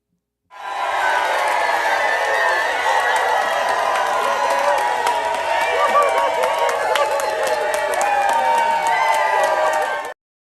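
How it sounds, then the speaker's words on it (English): Studio audience breaking into a full round of applause with cheering and whoops, a dense, loud wall of clapping that starts abruptly and sustains for about ten seconds before cutting off. "That round of applause is for you for being here, and we appreciate you."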